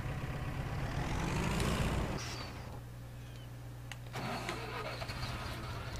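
An International vehicle in Farming Simulator 17 cranks over with a rising whine, catches, and settles into a steady low idle, close and continuous throughout.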